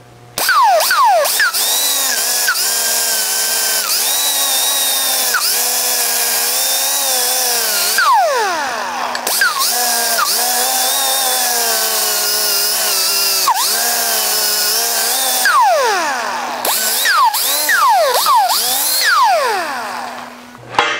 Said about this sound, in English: So I put a 120 grit on this here. I just want to clean up where the 50 grit was.